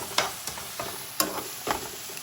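Onion, green chilli and garlic fry in a pan for chicken biryani, with a low sizzle under four or five sharp scrapes and knocks of a spatula against the pan, spaced about half a second apart.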